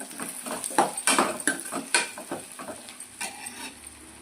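A spoon scrapes and clinks in a pan as onions are stirred with cumin and coriander seeds for an onion chutney, in a close, irregular run of strokes with no talk.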